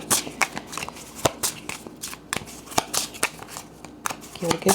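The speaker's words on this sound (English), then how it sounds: "Give it a good shuffle here" A tarot deck shuffled by hand at close range, producing a quick run of crisp card flicks and riffles that sound sharp and steady from start to finish.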